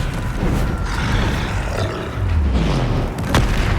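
A troll in the video game Hogwarts Legacy lets out deep, loud roars and grunts amid low booming combat effects, with a heavy rumbling growl sustained across the fight.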